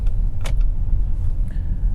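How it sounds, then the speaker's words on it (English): A Dodge Journey drives through everyday Houston traffic. Heard from inside the cabin, a steady low road-and-engine rumble continues throughout, with a short light click near the start and no voices. "I'm in everyday traffic, as we like to call this right now, driving in Houston"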